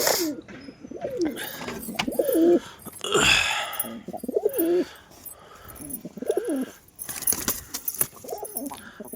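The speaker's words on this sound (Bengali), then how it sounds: "তো কী কী কবুতর ফ্লাই দেবো প্রথমে তোমাদের দেখাই।" Pigeons coo repeatedly in soft, rolling phrases, close by and fairly quiet, with a few wing flutters and rustles between calls and no talking.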